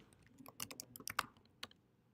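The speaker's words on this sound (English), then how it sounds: "I'm like typing over there like a clown" Typing on a computer keyboard, a quick irregular burst of close, crisp key clicks with no voices, fairly quiet overall.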